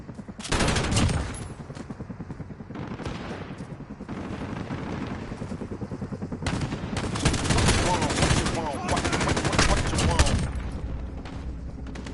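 Machine gun fire in Call of Duty: Modern Warfare, long sustained bursts of rapid automatic shots with a few brief pauses, loud and close amid game sounds, with a voice talking at times.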